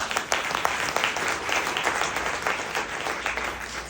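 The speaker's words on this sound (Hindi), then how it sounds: "जो इंसान आपको लेकर के आया था एक बार जोरदार तालियां हो जाए दोस्तों" Steady, dense applause from an audience at a wellness business seminar, a continuous wash of clapping lasting several seconds with no talk over it.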